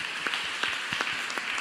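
Applause from a church congregation, steady clapping with no speech over it, dense and moderately loud throughout a brief burst.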